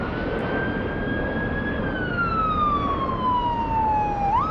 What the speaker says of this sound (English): Despite the emergency vehicles stealing the spotlight right now, lots of sound coming from down below.